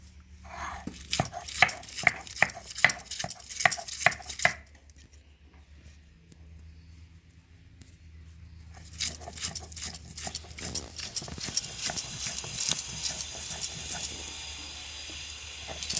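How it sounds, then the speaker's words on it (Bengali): Tamarind, garlic and green chillies ground on a grinding stone, a close series of rhythmic knocking and scraping strokes that stops for about four seconds, then resumes faster and denser until the end. "এবার তেঁতুল আর রসুন আর কাঁচা লঙ্কা আমি বেটে নেব"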